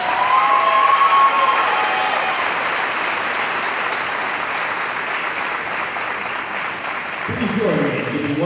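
Crowd applause and cheering fill a volleyball gym during senior introductions, a sustained loud wash of clapping with shouts, a whistle-like tone early on, and a voice over the speakers near the end.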